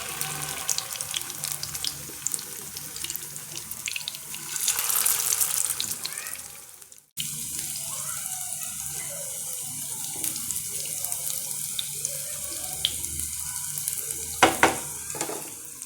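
Semolina cutlets shallow frying in oil over low heat, a soft steady sizzle that thins and breaks off partway, then returns with crackles and a couple of sharper spits near the end.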